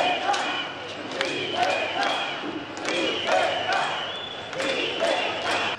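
A street protest in Trieste with students, workers and families, a crowd shouting and chanting together continuously, with rhythmic bursts of massed voices over a steady murmur at moderate distance.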